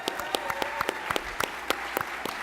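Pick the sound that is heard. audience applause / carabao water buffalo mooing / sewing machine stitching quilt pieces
audience applause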